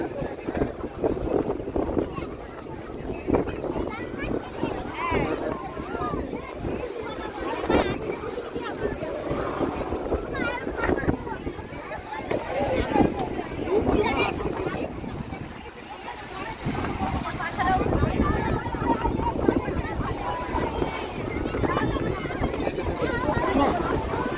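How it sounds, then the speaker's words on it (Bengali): Rough sea waves break and surge continuously at Digha beach, a steady loud wash of surf mixed with wind buffeting the microphone, with voices murmuring over it. "উত্তাল ঢেউ চলছে উত্তাল ঢেউ"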